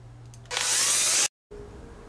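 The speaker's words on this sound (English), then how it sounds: "First step is to simply drill a hole in the back of your juice bottle." A power drill bores a hole in the back of a plastic juice bottle, a loud, close, high-pitched whirring grind lasting under a second before cutting off abruptly, with a quieter hum afterward.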